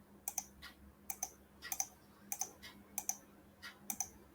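Sharp, quiet clicks of a computer mouse come in small clusters of one to three at fairly even intervals, close up over a faint low hum.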